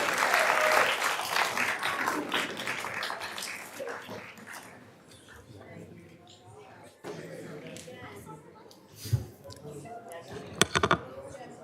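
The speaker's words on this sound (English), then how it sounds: "Can we give another round of applause for our amazing" Audience applause at a school board meeting, loud and dense at first, then thinning out into scattered claps and room noise with people talking, and a few sharp knocks near the end.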